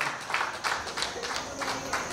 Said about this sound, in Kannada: ಪ್ರೀತಿಯ ಧನ್ಯತಾ ಭಾವದ ಚಪ್ಪಾಳೆಗಳನ್ನು ಸಮರ್ಪಣೆ ಮಾಡುವ ಮೂಲಕ